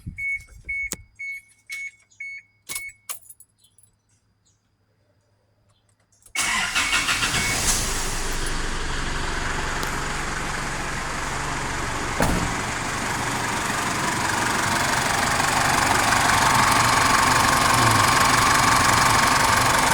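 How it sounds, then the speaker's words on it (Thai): A vehicle being readied as a decorated procession float for a Buddhist Lent candle parade starts up after a few faint clicks and quiet, then its engine settles into a loud, steady idle that carries on without a break. "ลองสตาร์ทรถดู"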